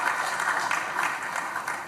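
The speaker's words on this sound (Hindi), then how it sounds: "आपकी जोरदार तालियां बजती रहें" Steady, dense crowd clapping at a scholarship award ceremony, applauding a state minister for women and child development; the applause is sustained and fairly loud for the whole stretch, with no voices over it.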